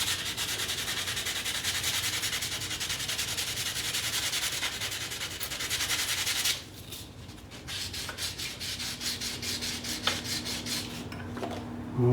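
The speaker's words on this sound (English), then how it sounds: "I'm going to hit this with some sanding again" Sandpaper rubs a metal coin ring in a continuous gritty rasp, then shifts to quicker back-and-forth strokes with a rhythmic scratchy pulse, heard close with no talking.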